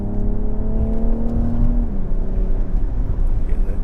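A car engine hums steadily with a sustained tonal drone that drops in pitch partway through, then continues as a rough, close rumble.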